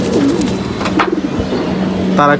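Domestic pigeons coo softly in a home loft, a few low rolling coos close by, with faint background noise and a brief higher call at the end.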